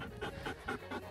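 A dog pants during a walk: rapid, breathy, rhythmic huffs about four or five to the second, close and fairly quiet, with no voices.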